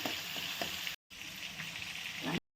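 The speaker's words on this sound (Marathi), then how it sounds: "आलं लसूण पेस्ट टाकली कांदा छान परतून घ्यायचं" Onions sizzle with ginger-garlic paste in plenty of oil and butter for pav bhaji, a loud, continuous close-up frying hiss briefly cut off twice.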